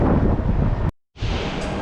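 Loud wind buffets a microphone outdoors in rainy weather in a heavy, roaring rush, cutting out briefly before gusting back in just as strongly.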